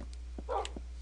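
Pet puppies trailing a player in a video game give a few short, quiet yips and barks, scattered and brief over a low steady hum.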